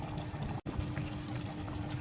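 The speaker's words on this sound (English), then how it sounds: "I'm adding some water which is mixed with kevda essence and rose water" Water mixed with kevda essence and rose water is poured into a pot of chicken korma, a soft, steady pour with a brief gap, faint and close.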